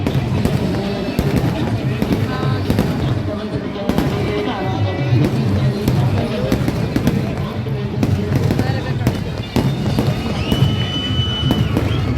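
Continuous crackling and popping of fireworks at the Athirampuzha church feast in Kerala, dense and fairly loud, with voices and crowd noise mixed in throughout.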